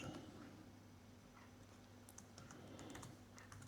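Keys tap softly on a computer keyboard in an irregular run of light clicks, faint and quiet against a low steady hum.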